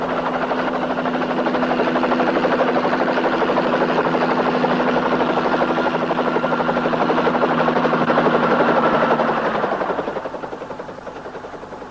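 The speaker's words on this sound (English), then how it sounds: "The copter, Natasha." Helicopter engine and rotor in a cartoon, a steady loud droning whine with a constant hum that holds for about nine seconds, then drops in pitch and fades as it winds down.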